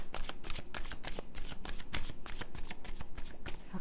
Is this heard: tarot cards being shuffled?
yes